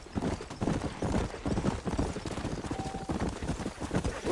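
Horse hooves clip-clop steadily on dirt in the video game Red Dead Redemption, a brisk repeated rhythm of moderately near footfalls under an ambient outdoor bed, with a faint whinny-like tone briefly appearing.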